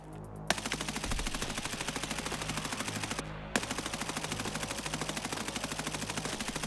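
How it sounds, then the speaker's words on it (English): Automatic gunfire from the Escape from Tarkov video game, delivered as two long sustained bursts of rapid, evenly spaced loud shots separated by a brief pause, with no talk. "shooting in bursts may be the perfect way to waste ammunition"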